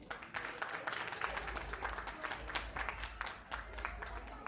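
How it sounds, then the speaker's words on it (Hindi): Guests at a sangeet, a family wedding celebration with dance performances, break into sustained applause and clapping over a steady low hum, with crowd voices mixed in throughout. "जोरदार तालियां।"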